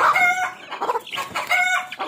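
A farmyard rooster crows loudly nearby among laying hens, two drawn-out crows separated by short clucking calls from the flock.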